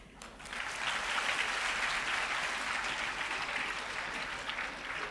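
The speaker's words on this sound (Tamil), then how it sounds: "இதுக்கு இவ்வளோதான் கைத்தட்டுறதுன்னு வச்சுருக்கீங்களா?" An audience at a college motivational speech claps in steady, sustained applause that swells quickly and continues evenly for about five seconds, heard at a moderate distance.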